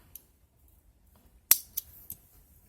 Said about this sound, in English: Then we're going to take our scissor, cut